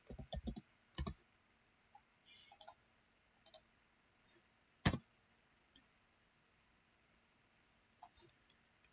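A git clone command is typed on a computer keyboard in scattered, sparse clicks: a quick cluster at the start, isolated taps across the middle, and one sharp louder keystroke, likely Enter, near five seconds.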